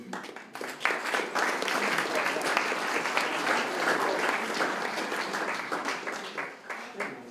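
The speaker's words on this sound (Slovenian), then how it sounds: "Še enkrat velik aplavz za vse učence, učenke osnovne šole Koroški Jeklarji" An audience at a school award ceremony gives sustained, full applause, many hands clapping steadily and loudly throughout, easing off slightly at the close.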